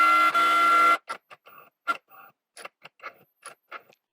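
Cricut cutting machine cutting sublimation sticker paper: about a second of steady tonal motor hum, then a run of short whirring bursts and clicks at an uneven pace, close and fairly quiet.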